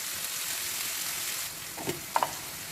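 Onions frying in a pan for a Telugu chikkudukaya tomato curry, with a steady close sizzle throughout and a few small clinks of a spoon near the end.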